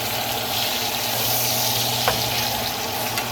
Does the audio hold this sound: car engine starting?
no